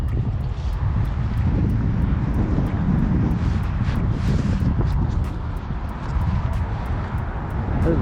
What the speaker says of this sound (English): It's windy as heck today.